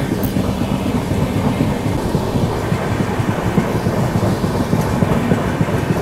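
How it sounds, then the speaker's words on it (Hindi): Rajdhani Express running parallel beside the Vivek Express, a steady loud rumble of wheels and carriages heard from on board, continuous and dense without pauses. "साहब राजधानी एक्सप्रेस के साथ पैरेलल रन पहली बार देख रहा हूं मैं।"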